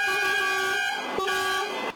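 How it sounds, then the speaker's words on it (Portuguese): Truck horns blare in a long, loud, steady honk during a truckers' protest on the highway between Nova Lima and Belo Horizonte, Brazil, with a brief dip mid-blast before it sounds again and cuts off. "Dezenas de caminhões enfileirados e buzinaço pela rodovia."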